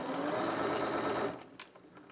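Bernina 325 sewing machine running a straight stitch, a steady fast whirring hum that stops abruptly, followed by a few faint clicks of the mechanism.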